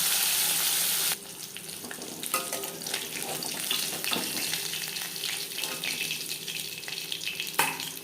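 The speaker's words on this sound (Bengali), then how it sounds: "একটা সাইজ ভাজা হয়ে গেলে অপর সাইজটা উল্টে দেবে" Oil sizzles and crackles steadily in a pan as katla fish fries, with occasional sharper pops and clinks of a utensil; no voices.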